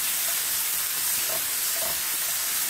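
Minced or sliced meat and vegetables stir-frying together in a wide pan for a Vietnamese dry noodle dish, a loud, constant sizzle with faint scraping from stirring and no talk.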